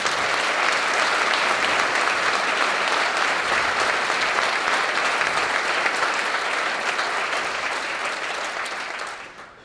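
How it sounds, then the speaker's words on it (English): A large breakfast-event audience applauds Shamari, the dense clapping loud and steady for about nine seconds before fading quickly at the end. "Let's give Shamari a round of applause."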